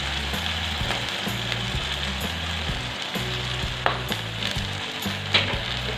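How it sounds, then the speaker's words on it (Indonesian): Chicken basted with sweet soy sauce sizzles and crackles as it grills, a close continuous hiss with small pops and irregular scraping sounds. "Aku mau panggang sampai warnanya agak kecoklatan ya."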